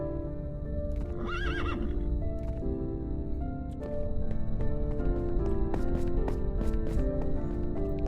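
A game horse in Minecraft whinnies once with a wavering neigh, followed by a run of sharp, evenly spaced hoof clip-clops over a steady musical background.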